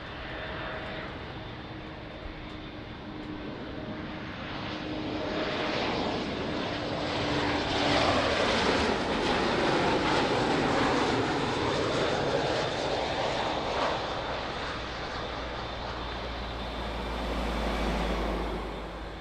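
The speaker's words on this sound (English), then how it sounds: "A little bit of a late landing." An airplane lands at Lisbon Airport, its broad engine roar swelling steadily toward a loud peak mid-pass, then easing while a low rumble lingers as it rolls out on the runway.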